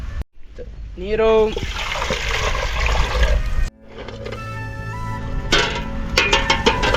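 Water is poured into a bowl for egg bonda batter in a village-style kitchen, a steady trickling pour with splashy bursts near the mic.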